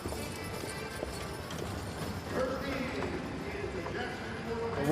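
Hooves of six-horse hitch teams clip-clop steadily as they enter an indoor show arena at a hitch classic finals in Oklahoma, a busy crowd murmur and public-address talk running underneath throughout.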